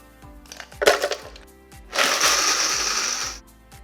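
A kitchen blender crushing ice: a few loud rattling cracks as it starts, then a sustained grinding whir for about a second and a half before it stops, with a steady low motor hum underneath.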